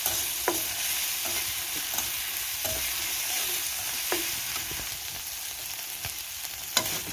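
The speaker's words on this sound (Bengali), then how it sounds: "এখন এগুলো একটু ভালোভাবে ভাজা ভাজা করবো।" Onion frying with ginger garlic paste in a pan gives a faint, steady sizzle, with a spatula scraping and tapping the pan at irregular intervals and no talk.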